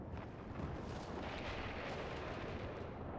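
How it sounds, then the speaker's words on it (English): Loud thunder in a Red Dead roleplay game, a deep rumbling roll that fills the whole few seconds with a heavy, explosion-like boom and no voices. "I just heard very loud thunder."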